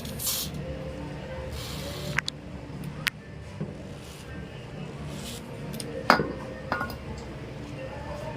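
Penetrating oil is sprayed in a few short hissing bursts onto the rear blower part of a new-model Toyota Avanza, close to the mic, with light metallic clinks of handled parts in between.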